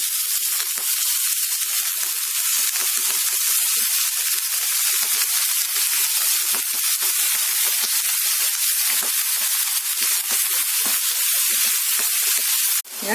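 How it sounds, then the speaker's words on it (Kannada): Brinjal pieces stir-fry in hot oil with onion, mustard seeds and cumin, giving a loud, dense, continuous sizzle and hiss close up throughout, with faint scattered scraping, cutting off abruptly at the end. "ಬದನೆಕಾಯಿ ಸ್ವಲ್ಪ ಬಾಡಿದೆ ಎಣ್ಣೆನಲ್ಲಿ. 1-2 ನಿಮಿಷದಷ್ಟು ಚೆನ್ನಾಗಿ ಎಣ್ಣೆನಲ್ಲಿ ಫ್ರೈ ಮಾಡ್ಕೊಳ್ಳಿ."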